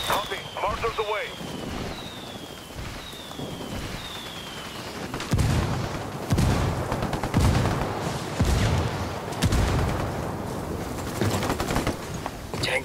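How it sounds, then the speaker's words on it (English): Rifle gunfire and mortar blasts rumble in the video game Ghost Recon Wildlands, with bursts of shots and heavy booms over wind noise and brief talk. "I'm opening fire on these shitheads. Call the rebels for some indirect fire. Copy. Mortars away."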